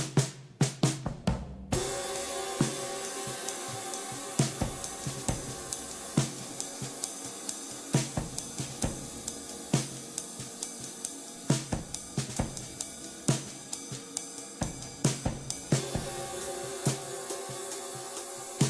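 A live drum kit picked up by overhead microphones plays a steady groove, with sharp regular hits and constant bright cymbal sizzle washing over everything, close and loud.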